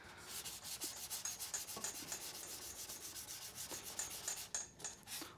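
Fresh sandpaper on a sanding block rubs over body filler on a car bumper in quick, even back-and-forth strokes, a soft rasping rhythm close by with no talking.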